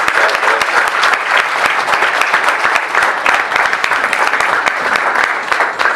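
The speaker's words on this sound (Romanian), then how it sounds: "Vă rog să-l aplaudeți pe Bogdan Dobolău." A conference audience at the first bizz.club Romania event applauds Bogdan Dobolău, with loud, dense, continuous clapping filling all six seconds and no talking over it.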